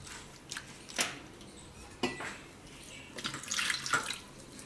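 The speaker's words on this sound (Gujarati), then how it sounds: "તો આને આપણે 2-3 પાણીએ ધોઈ નાખશું." Poha (flattened rice) is rinsed two or three times in water in a kitchen bowl, with soft splashes, sloshing and light clinks of the vessel coming in intermittent bursts, close but fairly quiet.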